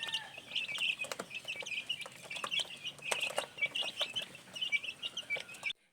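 Young chicks kept in a covered box on a gamefowl breeding farm, a continuous chorus of high, thin peeping and chirping, close and moderately loud, with no talk.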